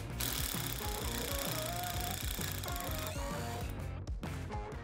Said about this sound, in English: I'll finish taking out this pin screw